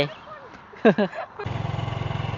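A Honda Wave motorcycle on a ride to a waterfall: a voice speaks briefly at first, then a steady, pulsing small engine hum takes over, close and constant until the end.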